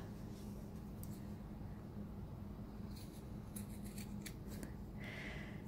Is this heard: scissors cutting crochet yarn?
yes